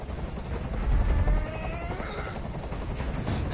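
A hovering helicopter in Detroit: Become Human gives off a loud, steady low rotor rumble with a constant thrumming texture, and faint tonal sounds drift over it.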